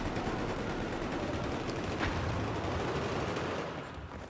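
Sustained automatic gunfire from an RPK machine gun in Battlefield 4 on the Sunken Dragon conquest map, a dense unbroken rattle of loud shots lasting throughout and easing slightly at the end, with no talk.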